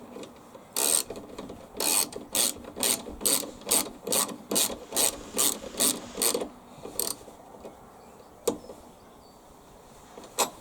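Ratcheting bursts come in a fast, regular series as bolts on a lawn mower rear axle are tightened down, each click close and crisp, then a lone click and quiet.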